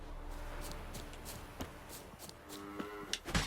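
Cows in the video game The Witcher 3, several low moos mixed with shuffling footsteps and scattered thumps at moderate volume.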